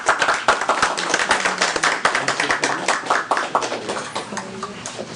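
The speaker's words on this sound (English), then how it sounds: "So we're applauding year-round, obviously that presentation" Applause from those attending a school board meeting, a close group of individual claps in a quick, fairly even rhythm that holds steady and gradually thins, with faint voices beneath.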